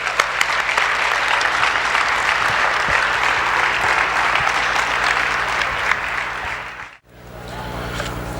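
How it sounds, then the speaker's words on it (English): Audience at a medical institute's ten-year celebration welcoming the CEO with loud, sustained applause that fills the room, then cuts off abruptly before a faint hum resumes. "please welcome with a big round of applause Mr. Mohammad Shafique-Ur-Rehman, the CEO of Rehman Medical Institute"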